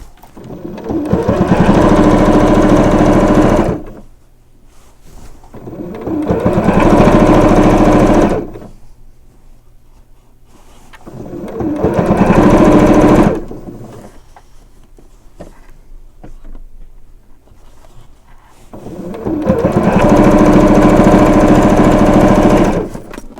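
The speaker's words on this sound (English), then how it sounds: "I will stitch over a little bit over the previous stitch line that I had just to secure it" A sewing machine stitches binding, running in four loud, steady bursts of several seconds each, separated by quieter pauses, close up with no speech.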